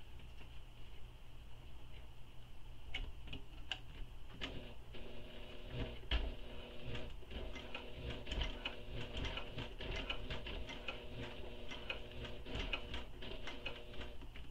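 Home sewing machine stitching a fabric wristlet, quiet mechanical ticking and whirring in short bursts with small clicks between runs, close and faint.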